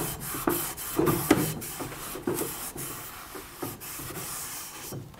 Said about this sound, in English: I'm using card cleaner with a nice clean rag.